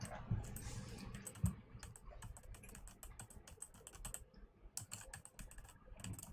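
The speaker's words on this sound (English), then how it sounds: "the typing noises are still going on" Rapid keyboard typing from the Steins;Gate 0 visual novel, a soft, uneven patter of key clicks that runs steadily throughout at low volume, with a couple of heavier thumps near the start.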